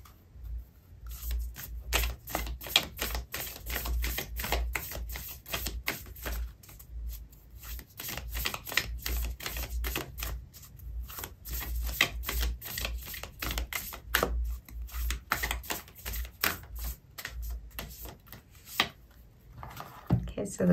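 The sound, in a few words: shuffling and pulling out an oracle card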